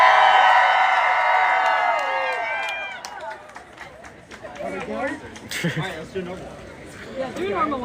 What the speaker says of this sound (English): Can the crowd cheer real quick?